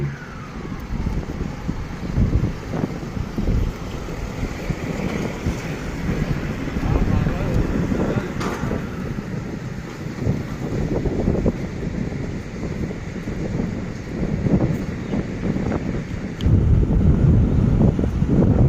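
Strong wind buffets the microphone at a trackside spot in Ban Khu Bua, Thailand, as an ordinary passenger train departs, giving a steady loud rumbling roar throughout with brief gusty swells.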